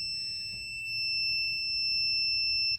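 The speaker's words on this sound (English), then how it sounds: "it should beep as well if they're making continuity" A continuous high-pitched electronic beep from a multimeter continuity check between a 30 amp fuse and a wire, holding steady for a couple of seconds before cutting off.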